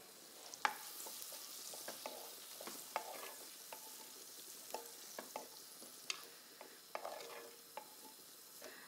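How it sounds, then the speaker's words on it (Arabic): Onions fry in a pot with a soft continuous sizzle, punctuated by frequent sharp scrapes and taps of a spoon stirring, close and quiet with no voices. "رح نبدا نقلي البصل تبعنا"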